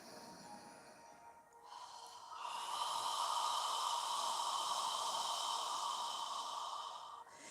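Deep yoga breathing close to the mic: a soft inhale, then a long, steady, breathy exhale held for several seconds before tapering off, with no talking.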